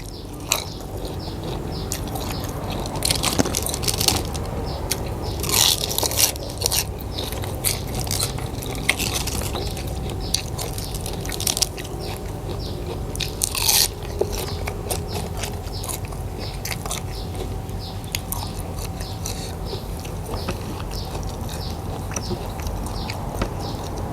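Close, steady crunching and chewing of a crunchy pickled shrimp salad with pork rinds, with repeated bites and mouth noises and a few sharper crackles.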